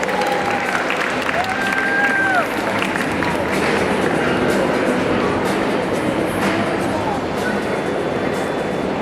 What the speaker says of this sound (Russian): Аплодисменты немецкому догу.